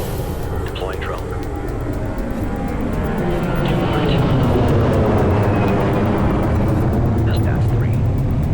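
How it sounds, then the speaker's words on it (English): A deployed surveillance drone in the video game Ghost Recon Future Soldier hums steadily as a continuous whirring drone, swelling slightly louder midway and holding under background game ambience. "Deploying drone."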